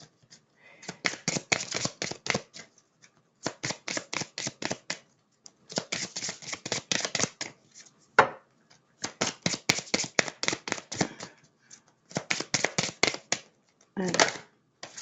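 Tarot cards shuffled in repeated riffling bursts separated by short pauses, close and crisp, while someone speaks French softly between them.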